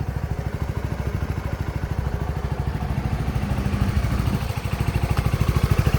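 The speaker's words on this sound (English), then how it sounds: "Healthy motor, sounds as it should, shifts as it should." A 2023 CF Moto 300SS sport motorcycle with a stock exhaust idling nearby, a loud, steady, fast-pulsing engine putter with a slight dip in revs partway through and no voices.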